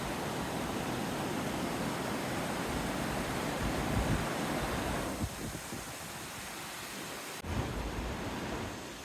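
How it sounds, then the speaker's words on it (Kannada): Water rushing along a stream beside a hot spring, a steady broadband roar that stays loud and continuous throughout, easing slightly partway through with a brief bump near the end. "ಇಲ್ಲಿ ನೋಡ್ರಿ ಎಷ್ಟು ಚಂದ ನೀರು ಹರಿದು ಬರಕೈತಿ."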